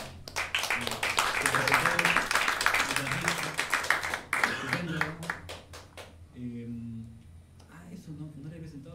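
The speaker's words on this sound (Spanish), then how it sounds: "a quien quiero que le den un aplauso, por favor." A concert audience at an ensemble's performance applauds the arranger with steady clapping for several seconds, which thins into scattered claps and then gives way to someone speaking.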